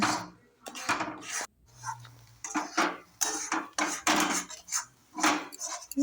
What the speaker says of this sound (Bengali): বেশ খানিকক্ষণ আমি নাড়িয়ে মোটামুটি সেদ্ধ